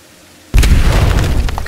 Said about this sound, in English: That explosion will sure attract some company.